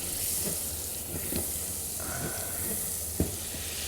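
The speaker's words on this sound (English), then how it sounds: "into my pan, I'm going to add some butter" Butter sizzling as it melts in a pan before diced carrot and onion go in for a cream of tomato soup, a steady close frying hiss throughout with a few light clicks and scrapes.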